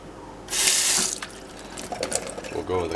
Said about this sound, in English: we'll go with a cup of water to match it.